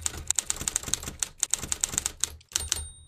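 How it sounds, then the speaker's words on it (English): Simulated typewriter key sounds from the KeyUp Mac app: a rapid, uneven run of crisp mechanical clacks with a small bell-like ding near the end, close and clear with no voices. "There's some built-in keyboard sounds, which are a lot of fun. I like clacky, but I'm particularly fond of this typewriter."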